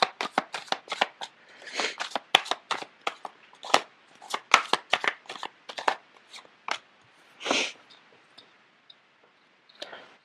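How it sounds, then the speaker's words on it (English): Rapid riffle of tarot cards being shuffled, a string of crisp flicks and clicks in bursts, close by, with brief pauses between runs. "The cards are not shuffling too well."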